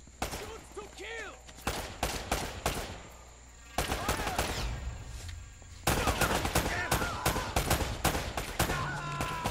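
Rapid bursts of gunfire from Uncharted: The Nathan Drake Collection crackle in repeated volleys, with sharp close shots separated by brief lulls and growing denser toward the end.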